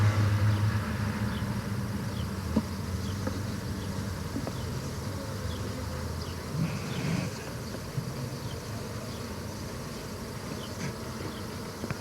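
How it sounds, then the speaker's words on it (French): Honeybees drone at beehives, a dense, steady buzz close to the microphone with individual bees whining past now and then, continuous and fairly loud throughout. "j'en ai là qui bourdonne"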